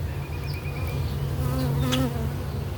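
Honeybees buzzing steadily at a hive being worked by a beekeeper, a dense continuous drone close to the microphone with a few louder individual bees passing near.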